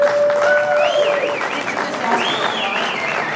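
Audience applause at a talk where a crowd answers a question about owning Sennheiser microphones, steady dense clapping throughout with voices mixed in and a whistling tone early on.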